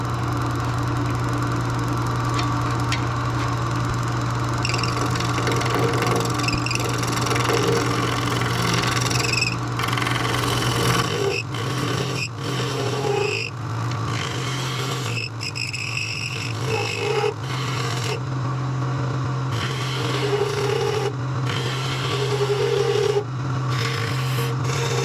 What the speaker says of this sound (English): Now let's put it on the lathe and start turning it.